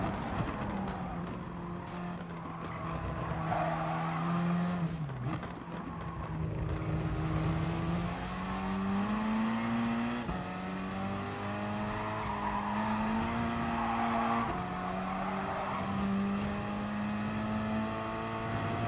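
Gr.4 race cars, Ferraris among them, run at Lago Maggiore West in Gran Turismo Sport, with a steady loud engine drone that rises and falls in pitch through gear changes and corners, accompanied by faint tire noise.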